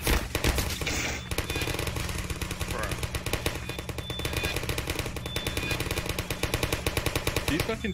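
Automated turrets in the game Trouble in Terrorist Town fire without letup, a dense, loud machine-gun rattle running nearly the whole stretch, with voices talking over it.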